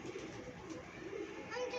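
Golden pigeons coo softly in a pigeon loft, low, faint murmuring calls repeating beneath quiet background noise and indistinct talk.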